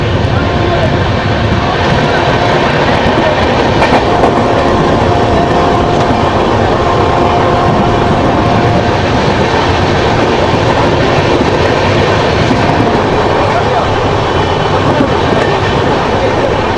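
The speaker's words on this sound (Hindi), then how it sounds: "और ये पड़ गया इस ट्रेन को ओवरटेक।" A train rushing past during an overtake, heard from aboard the 12985 Double Decker Express between Jaipur and Delhi Sarai Rohilla: a loud, steady rumble and wind roar that runs through the whole stretch without letting up.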